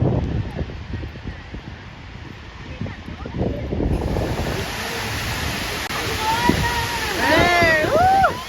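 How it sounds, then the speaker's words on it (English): A small waterfall rushes steadily throughout at a children's museum water feature in Texas, with people talking and calling out over the constant water noise. "Now we're down here at the little waterfall."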